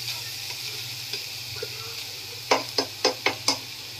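Bitter melon (ampalaya) cooking in a pan, with a steady low sizzle and a few soft stirring taps, then five sharp utensil clicks in quick succession near the end.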